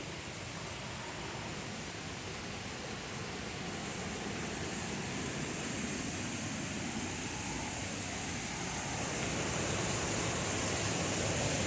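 A waterfall pours in a steady broadband rush, growing slightly louder over the span, with no voices.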